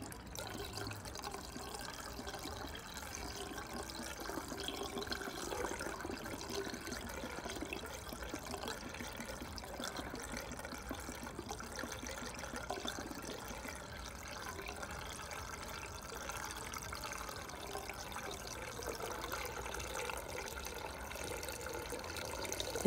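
Screen wash liquid pours steadily into the washer reservoir of a 2011 petrol Volvo XC60, a continuous close gurgling flow that lasts throughout without a break.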